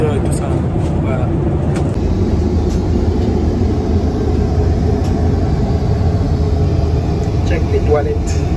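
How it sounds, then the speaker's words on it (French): Steady, loud jet engine roar and broadband cabin rumble heard from the rear seats of an airliner near the engines, constant throughout with faint background voices. "Il y a vraiment de bruit puisqu'on est à l'arrière avec les moteurs et tout ça."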